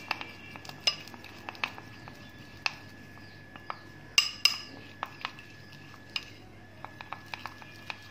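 A starch mixture being stirred in a bowl produces repeated light clinks and taps of a utensil against the sides, irregular but fairly rhythmic, close and quiet throughout.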